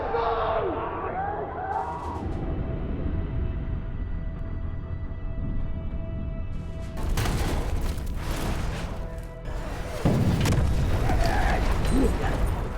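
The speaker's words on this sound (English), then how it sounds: "We do these long takes where we have real explosions going off." Loud booms and bursts of gunfire crackle through a dense, rumbling battle din from real explosions, tanks and bazookas on a film set, heavy blasts building toward the end amid distant shouting.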